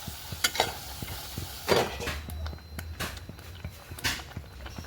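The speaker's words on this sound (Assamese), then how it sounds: "এয়া মছলা ফ্ৰাই হৈ আছে।" Ginger, garlic, mustard, turmeric and salt masala frying in a pan, a low crackling sizzle broken by repeated sharp scrapes and taps of a spatula stirring, close and moderately loud, no voices.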